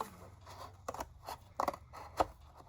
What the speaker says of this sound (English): I should have used my other scissors that are better for this.